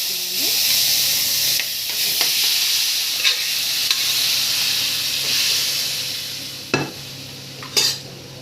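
Boiled mutton pieces sizzling in a kadai for Guntur gongura mutton curry, a continuous close hiss and crackle with occasional scrapes and clinks of stirring.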